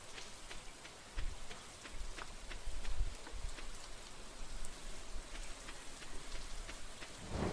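Steady rain falls in Stardew Valley, a dense, even patter with scattered louder drops and a few soft low thuds. It plays alone, without voices.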